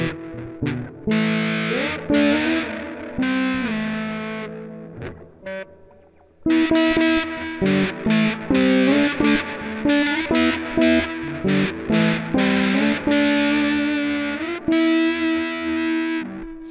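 Electric guitar runs through a PC amp simulator with heavy distortion, playing loud, close chords and riffs that stop briefly, then return in rhythmic bursts.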